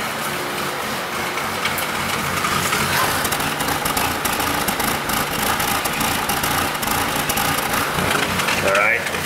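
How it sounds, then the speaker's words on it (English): A Honda Civic engine idles unevenly with a choppy, irregular rumble, running steadily and close by. "the engine is running pretty choppy"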